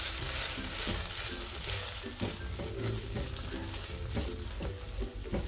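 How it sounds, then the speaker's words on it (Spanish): Tuna filling stirred in a hot pan for tucumanas, a steady sizzle and fry beneath repeated scraping strokes of a utensil that come at a loose, regular rhythm, close and moderately loud. "Voy a remover."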